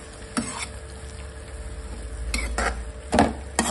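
A spoon stirs radish dal in a cooking pot, with a few scraping, clinking strokes against the metal over a steady low hiss, close and moderately loud.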